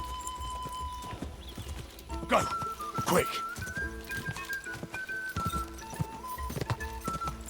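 Horse hooves clatter in a rapid galloping rhythm through Kingdom Come Deliverance 2, with a whinny rising midway, close and steady beneath excited shouting from a player.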